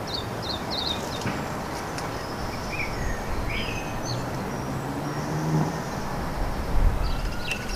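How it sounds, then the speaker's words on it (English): Small birds, sparrows among them, chirp and sing in short scattered phrases outdoors over a steady background rumble of traffic or wind, moderately near and fairly faint. "It surprises me to see how many birds sing with a full beak."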